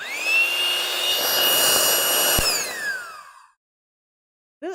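A loud, steady electric whine from an electric balloon inflator, like a blower motor, runs for about three seconds, then winds down and stops, leaving silence.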